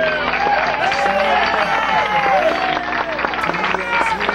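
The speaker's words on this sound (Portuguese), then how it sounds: "Você pode aplaudir o Joelzinho?" A church congregation celebrating a pastor's 20 years of ministry claps and cheers loudly and steadily for about four seconds, with dense overlapping applause and some whoops mixed into the crowd noise.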